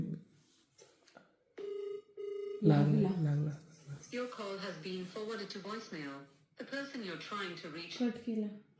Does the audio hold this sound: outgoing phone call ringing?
yes